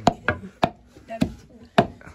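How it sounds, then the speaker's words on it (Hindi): Tomatoes being crushed by hand for chutney, five sharp, evenly spaced pounding hits close up, each a quick thud with a short ring, in a quiet setting. "इधर बहन चटनी मार रहा है टमाटर से"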